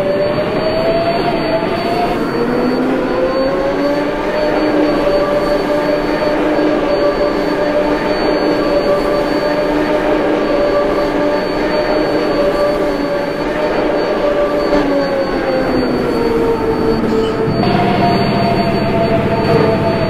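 An R188 7 subway train at Queensboro Plaza runs steadily for the whole stretch, a loud, continuous rail rumble with sustained tonal motor whine that rises and shifts in pitch, and a change in sound near the end.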